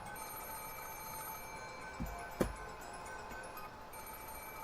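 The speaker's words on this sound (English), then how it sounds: "the ring of the phone, which had sounded like a scream for help" A steady electronic telephone ring tone sounds in the Umineko visual novel, held at low level alongside background music with a couple of brief clicks.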